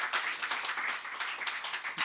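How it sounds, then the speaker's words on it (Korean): Church congregation clapping, a brief, fairly quiet patter of hands with distinct individual claps in an uneven rhythm. "우리 지원이 이번 수련회 큰 은혜 받았는데 우리 큰 박수로"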